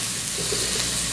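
Salmon nuggets frying in a pan, a steady close hiss of sizzling oil throughout with no talk.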